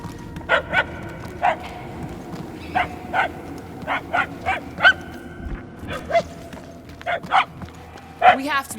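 A small dog in the Guardians of the Galaxy video game barks and yaps in a repeated string of sharp, high yips, fairly close and loud, spaced irregularly over a low background hum.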